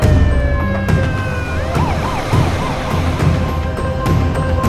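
Ambulance siren in a Hindi audio drama, wailing up and down in repeated rising and falling sweeps over a steady mix of traffic and vehicle rumble, loud and fairly close throughout.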